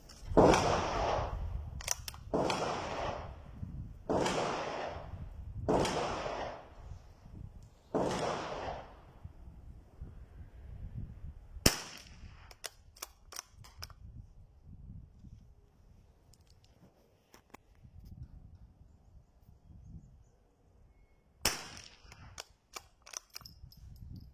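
Webley & Scott Xocet air rifle fired without a silencer, five sharp cracks in a steady rhythm, then quieter handling noise and two more isolated shots later, close and loud.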